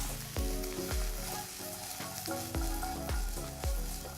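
Vegetables sizzling in a frying pan alongside carrots during meal prep, a loud steady hiss broken by repeated thumps of food being tossed or moved in the pan, close and continuous.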